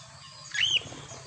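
A pet bird flies past with a brief burst of flapping wings and a thin chirp, rising briefly above quiet room background.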